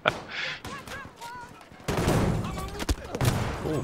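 Sten submachine gun fired blind in a Battlefield 2042 match, with rapid bursts of shots and sharp cracks amid general battle noise, while a voice talks faintly over the gunfire.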